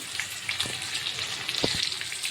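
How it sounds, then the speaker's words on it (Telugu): Chicken fries in a pan for a hotel-style chicken fry, a steady bright sizzle with scattered crackles and pops, fairly close and without voices. "చూసారు కదా చికెన్ ఎలాగా ఫ్రై అవుతుంది"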